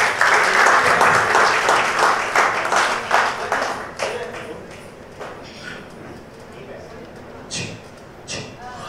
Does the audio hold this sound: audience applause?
yes